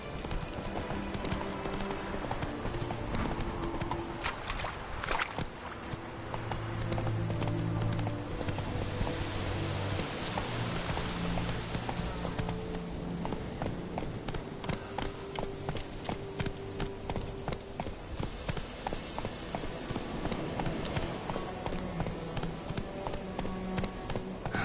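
Rapid clip-clop of a horse galloping in a video game, a continuous steady hoofbeat rhythm over a dense game soundtrack with music and effects throughout.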